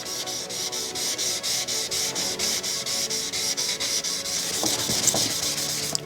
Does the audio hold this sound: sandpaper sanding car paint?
yes